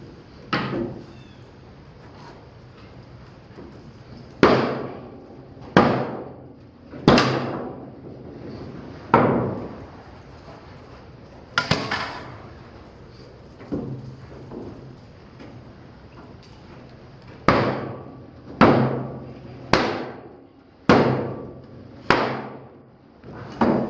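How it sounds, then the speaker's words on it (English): Old wooden decking boards being pried and broken loose from a trailer bed, with a series of loud, sharp cracks and thumps in irregular bursts, close by and with no talking. "Got to break them off. They won't unscrew."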